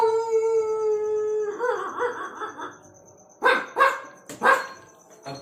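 A man mimics several dogs, starting with a long held whine-like howl, then a muffled yapping stretch, and ending with three loud, punchy barks close together, alone without ordinary speech.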